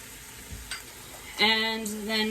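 Tomatoes simmering briefly in a pan for vegetarian jambalaya give a faint low sizzle, then a louder stretch of bright bubbling with a steady ringing tone running beneath it.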